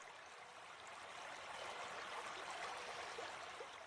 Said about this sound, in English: you can hear the soothing sound of the water as it flows steadily past